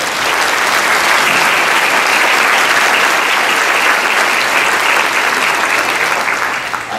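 Sustained audience applause fills a plenary session of the 2011 SID World Congress on development, a dense, steady wash of many hands clapping at even loudness for the whole stretch with no talk over it.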